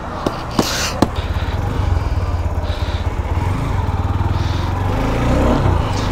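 A motorcycle engine runs steadily at idle with a fast, even pulsing putter after chain lubrication with Vaseline, preceded by a few sharp clicks, loud and close with no talk.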